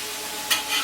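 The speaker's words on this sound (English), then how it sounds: "this is the glazing technique that I like to use, which is stir frying it first and then add stock" Steady sizzling of pork ribs stir-frying in a hot pan, with a brief louder hiss of stirring midway, close and continuous.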